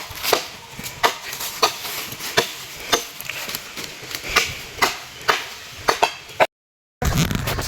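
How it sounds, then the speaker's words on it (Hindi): A blade chops repeatedly into bamboo outdoors in a village, cut down to build a pandal for Saraswati Puja. The strikes are sharp, loud and close, coming about every half second in an even rhythm, then break off abruptly. "साफ कर देते हैं इसको, जो भी छोटा छोटा डालिए सबको काट कर देते हैं"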